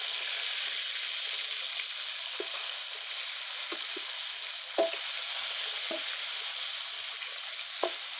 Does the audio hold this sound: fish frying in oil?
yes